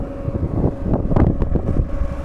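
Heavy wind on a mountain walking trail, a dense, loud rumbling roar with irregular gusts pounding the microphone throughout.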